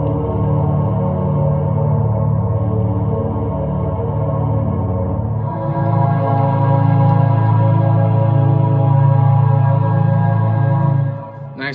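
A thick, sustained synth pad chord plays in GarageBand, smooth and full, with the voicing shifting brighter about halfway through before the sound fades out near the end.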